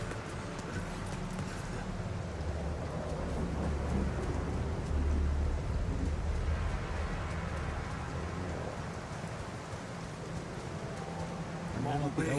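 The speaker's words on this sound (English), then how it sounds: "And it's raining." Steady rain pours down with low thunder rumbling throughout in the video game The Alters, a dense, continuous wash of storm noise with voices faintly present.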